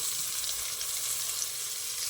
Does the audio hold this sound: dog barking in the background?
no